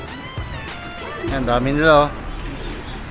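Pigeons of the Lietar line coo softly in a breeder's loft, a low warbling murmur rising briefly in the middle, heard close under someone speaking.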